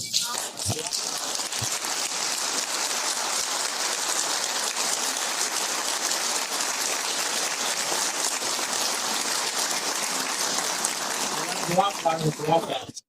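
Sustained audience applause from a crowd at a religious lecture, a dense steady clapping that fills the room for about twelve seconds before thinning out into scattered claps at the end.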